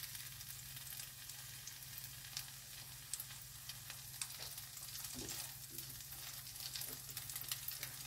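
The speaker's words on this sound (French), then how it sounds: "Faire couler de l'huile en dessous." An oat bran galette frying in a pan as oil is poured underneath, a faint, continuous fine crackle with scattered small pops and a low steady hum throughout, no speech.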